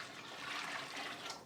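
Water poured in a steady, continuous stream into a glass canning jar already holding broth, a close, even splashing rush that lasts throughout with no voices.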